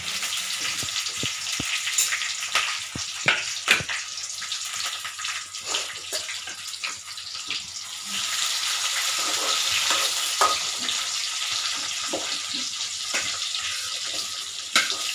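Garlic, green chili, onion and curry leaves fry in hot oil for vermicelli kichadi, giving a continuous crackling sizzle broken by frequent close spatters and scraping stirs throughout.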